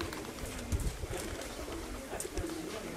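Pigeons coo softly in a loft or yard, low repeated murmuring calls, fairly faint with some light background noise and occasional rustles.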